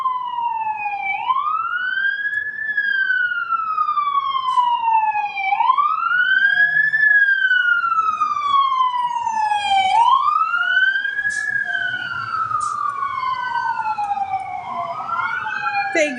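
Fire engine sirens from a nearby fire station wail in repeated rising and falling sweeps, loud and close, overlapping as several cycles roll past with a faint vehicle rumble beneath and no talking.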